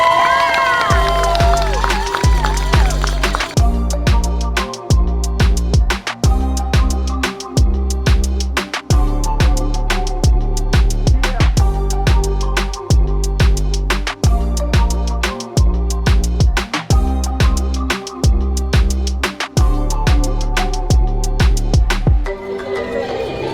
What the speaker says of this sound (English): Everybody starts cheering whenever people come